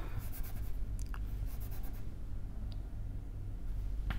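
Chalk or marker writing on a board during a physics lecture on band theory of solids, a quiet, steady scratching with a few brief taps, over a low room hum and no talking.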